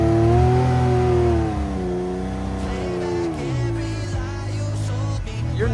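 A Can-Am side-by-side engine revs hard and loud at close range, its pitch climbing and dipping in sustained surges over several seconds with no talk.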